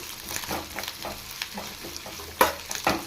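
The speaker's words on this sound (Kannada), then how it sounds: "ಈಗ ಈರುಳ್ಳಿ ಸೇರಿಸ್ತಾ ಇದ್ದೀನಿ ಈರುಳ್ಳಿನೂ ಹಾಗೆ ಗೋಲ್ಡನ್ ಕಲರ್ ಬರೋವರೆಗೂ ಚೆನ್ನಾಗಿ ಫ್ರೈ ಮಾಡ್ಕೋಬೇಕು" Onions fry in a pan for mutton sambar, a crackling sizzle broken by repeated scraping spoon strokes and a few sharper clatters, close and fairly loud with no voices.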